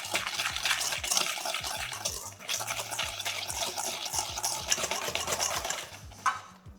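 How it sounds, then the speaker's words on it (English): Molten chocolate lava cake batter is mixed with flour in a bowl, producing fast, continuous rhythmic whisking and scraping strokes for several seconds, close and fairly loud, with one brief knock near the end. "And then you're gonna wanna mix this for about 2 minutes."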